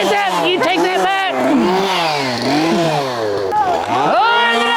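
A chainsaw revs and snarls inside a haunted house attraction, buried beneath loud, continuous screaming and excited shouting voices throughout.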